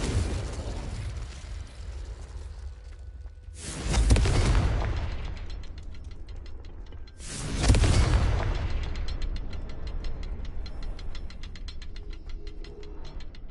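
Two loud fiery spell blasts from the Confringo curse in the video game Hogwarts Legacy burst out about three seconds apart, each a booming explosion over a steady background of mechanical clicking and rumble.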